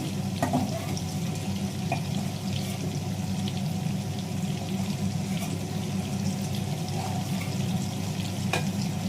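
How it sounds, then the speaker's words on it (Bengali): Steady sizzling of fish and bitter gourd frying in hot oil, a constant crackling hiss with occasional small pops and clinks throughout. "দেখো মাছটা ঠিকটা উল্টে দিয়েছি, আর উচ্ছে যে দুটো ভাজলাম ভাজা হয়ে গেছে"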